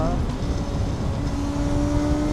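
A Kawasaki ZX6R motorcycle engine drones loudly and steadily close by, a rough low rumble with a faint rising tone laid over it, while someone talks across the sound.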